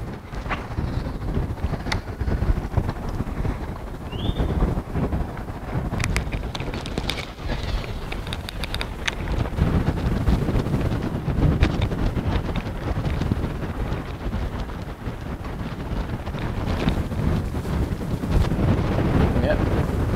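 Wind roars across the microphone on a fishing boat during a bass tournament, a continuous rough buffeting with water slapping and faint thumps underneath throughout.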